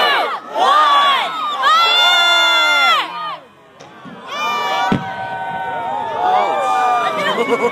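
An air show crowd shouts and cheers together in loud, sustained waves of many overlapping voices, then drops briefly before a thump and renewed shouting and whooping.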